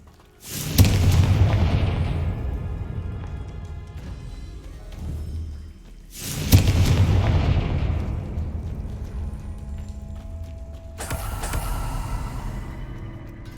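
Three separate fiery Confringo spell blasts in the Hogwarts Legacy video game, each a loud, deep boom with a long rumbling tail that fades before the next. The last blast is somewhat weaker, and no one speaks.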